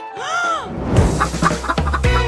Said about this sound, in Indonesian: aku punya ayam di sini